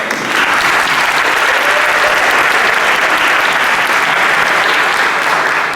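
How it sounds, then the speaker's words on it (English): Dense, loud audience clapping at a graduation ceremony, a full room applauding steadily and evenly for several seconds with no talk over it. "I think we should clap for you again"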